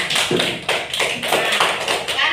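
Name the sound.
classroom children clapping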